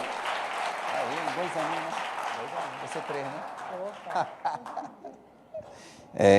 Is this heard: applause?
yes